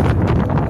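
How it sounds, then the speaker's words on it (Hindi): Strong, gusty wind buffets loudly and continuously, with a dense rushing texture that could be driving rain mixed in. "बारिश बहुत तेज़ हवा के साथ जा रही है"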